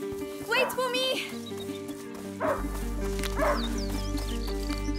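A hunting dog barks in the video game A Plague Tale: Innocence, a few short yapping barks under a steady musical drone while a voice speaks.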